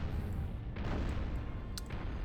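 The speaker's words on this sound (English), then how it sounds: "You guys just keep the bombardment." Artillery bombardment in a World War I strategy video game: a continuous low rumble of distant heavy booms blending into a dense roar, with faint crackling bursts on top, no voices.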